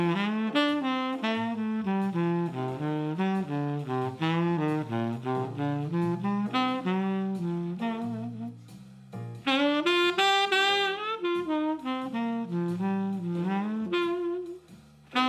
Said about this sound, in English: like what I was doing with Melissa, if I were to only play the scale notes on every chord and focus on nice voice leading from measure to measure